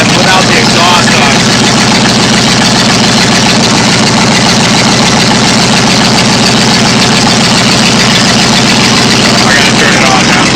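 A rebuilt 302 V8 in a 1990 Ford F-150 runs with no exhaust or headers fitted, a loud, steady, raw idle roaring close by for the whole stretch, with a voice talking over it.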